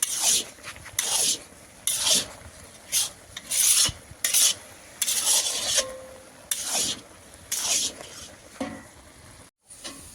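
A spoon scrapes and stirs grated carrot halwa (gajar pak) thickening in a pan after the milk has dried, giving repeated rough rasping strokes in irregular bursts with short pauses between them, close and fairly loud, with no talking.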